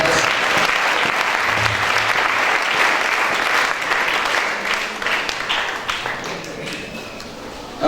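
A church congregation at a French-language sermon breaks into sustained, dense applause and cheering, loud and continuous for most of the stretch before thinning toward the end, with voices mixed into the crowd noise.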